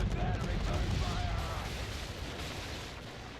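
Ship cannons boom in a naval battle in Assassin's Creed III, heavy rumbling shots crowding together early and then fading into a low, fading roar, with shouted voices mixed in.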